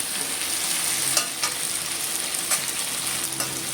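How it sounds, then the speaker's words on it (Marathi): Onion frying in a pan while preparing prawn biryani, heard as a steady, close sizzle with a few brief clicks of stirring. "आता मी कांदा भाजून घेते"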